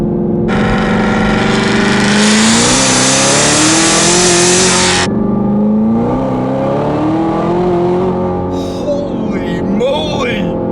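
A 1000-wheel-horsepower 2017 Chevrolet Camaro ZL1 accelerates hard, its loud engine roaring and rising in pitch through several gear changes over about ten seconds, then easing off as a person exclaims near the end.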